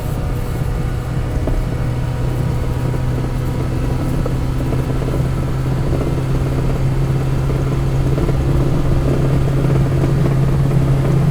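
A 1959 Mini drives fast at nearly 60 in third gear, its engine droning steadily and loudly with constant road and wind roar throughout, no voices heard.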